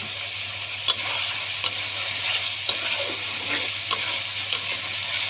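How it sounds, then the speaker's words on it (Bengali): Chicken meat with spices being stirred and fried in a pan for a potato and chicken curry, a steady sizzle throughout, broken by sharp clinks and scrapes of the spoon at irregular intervals. "মাংসটা সুন্দরভাবে নাড়াচাড়া করে কষাই নিব।"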